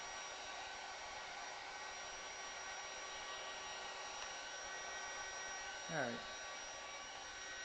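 A heat gun blows hot air onto a DeWalt heated jacket battery, a steady whooshing hiss with a faint whine that holds level throughout; someone briefly speaks near the end.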